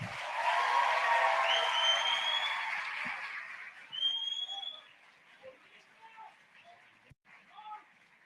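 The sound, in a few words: applause welcoming the Gillette brand director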